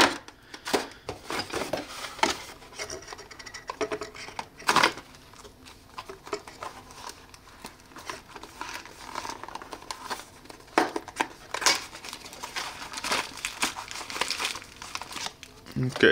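Protective plastic coverings peeled off the sensors and lens of a CEYOMUR WiFi trail camera, making close, intermittent crinkling and tearing bursts, with a voice at times.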